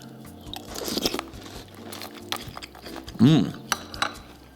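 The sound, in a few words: crunching and chewing Tiny Toast strawberry cereal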